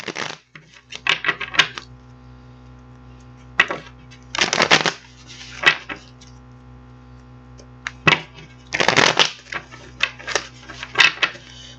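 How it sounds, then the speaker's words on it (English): Tarot cards are shuffled in repeated quick riffling bursts separated by short pauses, close and fairly crisp, with faint background hum. "I'm going to get these cards shuffled up"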